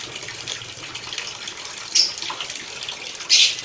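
Hot water spraying and trickling from a hole in a pipe during rose water distillation, a steady soft hiss of flowing water with two brief louder gushes near the end, fairly close.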